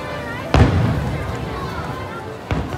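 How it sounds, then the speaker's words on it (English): Disneyland fireworks seen from Disney California Adventure, with two loud booming bursts about two seconds apart over a busy crowd with people talking nearby. "So get a little Disneyland fireworks show as you're leaving DCA."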